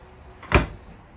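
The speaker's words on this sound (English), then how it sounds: "Huge drawer down here." A large drawer in the kitchen of a roomy travel trailer slides open in a single quick, fairly loud movement, close by with no talk over it.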